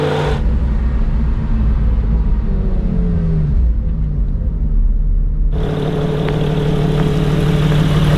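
A Porsche 911 pulling away as the clutch is slowly released, its engine a close, loud, steady rumble that dips briefly and then returns stronger, with no voices over it.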